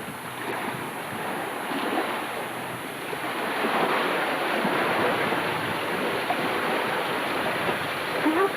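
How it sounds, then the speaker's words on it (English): Water gushing from a burst pipe at a hurricane-damaged house after Hurricane Opal, a loud, steady, close hiss and splash that runs continuously without pause. "This one's got a pipe burst."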